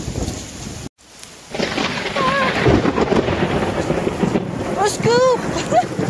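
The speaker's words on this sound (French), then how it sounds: "Je crois qu'il y a le gros orage qui est là." A heavy thunderstorm on a hike between Croatia and Slovenia, with steady rain and rumbling thunder filling the scene, wind buffeting the microphone and a few people's voices over it.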